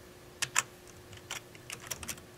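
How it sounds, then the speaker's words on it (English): Someone types on a computer keyboard into Excel's formula bar, making a few quiet, irregular key clicks: two close taps, then a scattered run of lighter strokes in a quiet room. "I can start to type right here in the formula bar"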